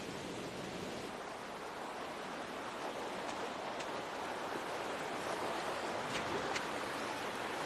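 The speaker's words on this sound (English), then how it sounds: "It's a watery place with pools and waterfalls and a rushing noise." River water rushes beside waterfalls in Wales, a steady, full hiss of flowing water that stays even and unbroken throughout.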